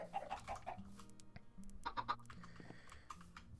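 Chickens in Minecraft, played in the All the Mods 6 To the Sky modpack, give short clucking and bleat-like calls in a quick cluster at the start and again midway, with soft game ambience in between.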